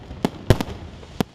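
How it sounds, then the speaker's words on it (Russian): Fireworks salute closing a concert: several sharp, booming bursts, a pair close together, then a lone bang a moment later, echoing over a low hiss of background noise. "Завершился концерт грандиозным салютом"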